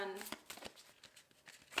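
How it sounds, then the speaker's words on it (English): A deck of oracle cards is shuffled by hand in quick soft flicking riffles, close and fairly quiet, over a faint voice. "let us shuffle my let go cards"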